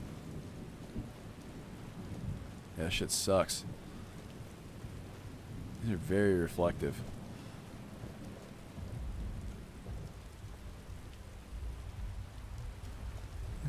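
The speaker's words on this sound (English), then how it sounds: "It was a dark and stormy night." Steady rain hiss with low rumbling thunder during a nighttime thunderstorm in the video game Skyrim, with two short bursts of talk breaking in over the continuous downpour.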